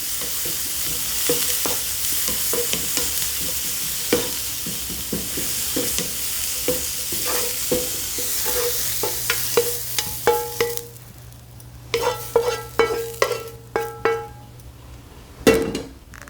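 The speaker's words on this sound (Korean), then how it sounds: "당근 데쳤죠, 미리. 그래서 살짝만 볶아주셔도 돼요." Blanched carrots being stir-fried in cooking oil in a pan, a soft steady sizzle with repeated sharp spatula taps and scrapes against the pan that grow sparser and more distinct toward the end, no talking.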